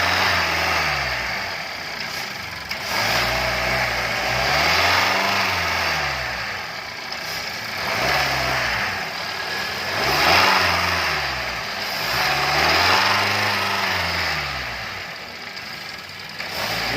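A car engine runs during a GDI intake valve and soot cleaning service, held around 2,000 RPM. It is close and steady, with slow, repeated surges in revs throughout.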